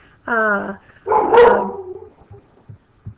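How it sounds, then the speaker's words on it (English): A dog lets out a whiny yelp, then a sharp, loud bark close by, followed by faint scattered thumps and small noises. "that's my dog"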